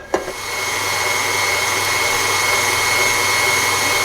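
An electric hand mixer whirs steadily in a mixing bowl of vanilla pudding for banana pudding, a continuous close motor drone after a brief start-up click.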